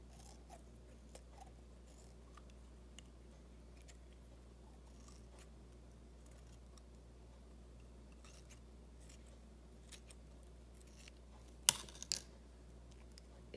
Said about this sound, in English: let's finish cutting open up the brain